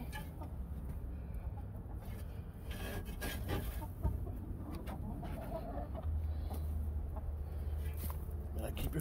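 Chickens cluck in a backyard coop with intermittent clucks over a constant low rumble, and some background murmuring can be heard.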